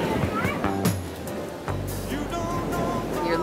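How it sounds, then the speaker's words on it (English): Ocean surf rolls and roars on a Jersey Shore beach, a broad steady wash heard under a speaking voice, with beach sounds and occasional clatter nearby. "You're listening to the beach, and the waves are roaring, and the kids are squealing."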